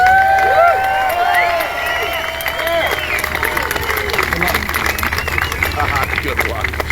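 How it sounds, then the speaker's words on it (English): Crowd applause and cheering at an outdoor trucker freedom rally in Cuba, Missouri, with whoops and shouts over dense clapping that continues steadily. "I want all of you to give this woman a round of applause."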